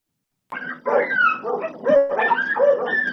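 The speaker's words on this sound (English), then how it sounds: "I've got a tanker coming in my driveway. My dogs are going nuts." Dogs bark and yip excitedly at a tanker truck pulling into a driveway, several close, loud barks in quick succession with whiny overtones.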